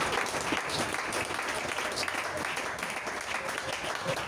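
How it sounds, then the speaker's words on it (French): Congregation clapping at a church service, a steady wash of many hands applauding together, loud and continuous with faint crowd murmur underneath. "Clap to the Lord."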